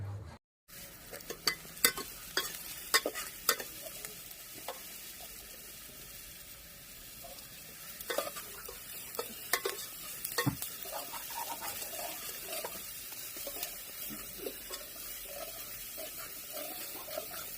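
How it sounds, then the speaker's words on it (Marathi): Finely chopped onion sautéed in oil in a pot over a wood-fired stove, cooked for mutton curry: a faint, soft sizzle broken by sharp clinks and scrapes of a utensil against the pot. "बारीक कांदा चिरून त्या पात पातेल्यात टाकून ते परतून घेत आहेत तेलामध्ये"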